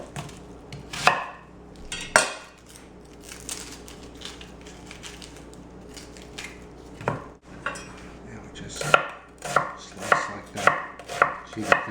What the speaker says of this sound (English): I'm gonna chop an onion, or slice an onion, and add that